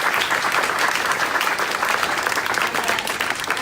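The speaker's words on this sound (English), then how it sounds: "Can we give a round of applause for our panelists?" Brisk, even clapping from an audience at a vegan technology panel fills the whole stretch at a steady level, a thick wash of hands applauding the panelists with no talk over it.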